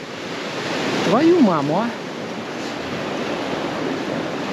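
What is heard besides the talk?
sea wave washing onto shore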